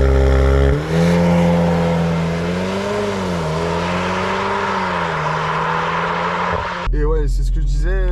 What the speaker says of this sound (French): on sent la voiture qui commence à monter en régime